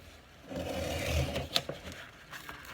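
An X-Acto blade scrapes across sandpaper in a short, close gritty rasp of about a second, followed by a few light scratchy taps.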